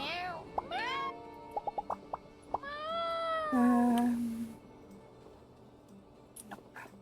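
An orange cat in the video game My Time at Sandrock meows several times, clear and close, with rising and falling tones. Short plinking game sounds fall between the meows, and a soft game background fills the quieter end.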